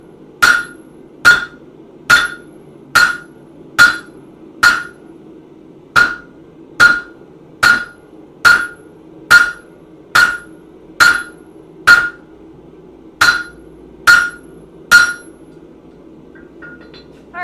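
Hammer blows forging a steel handle for a gardening trowel, about twenty sharp metallic strikes at a steady, near-regular rhythm with brief pauses, loud and close over low workshop hum, no talking.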